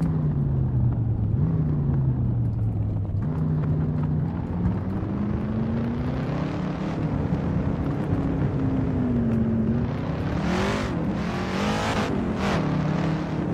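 A 1966 Ford Mustang engine in Assetto Corsa drones steadily throughout. Its pitch drifts up and down with the throttle, then climbs with a harsher rev burst near the end. No one speaks over it.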